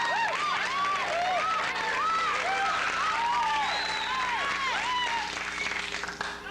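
Studio audience applause on a 1978 television talk-show set, dense steady clapping filling the room for several seconds, with overlapping whoops and pitched voices riding on top, tapering slightly at the end.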